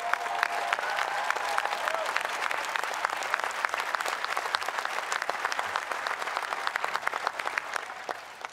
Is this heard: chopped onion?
no